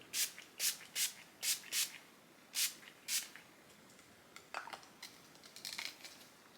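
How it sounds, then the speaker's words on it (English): A facial mist sprayer spritzes onto a face in a run of short, quiet hissing bursts, first quick and regular, then sparser and softer, heard close up with no talking. "But I'm going to spray it on my face."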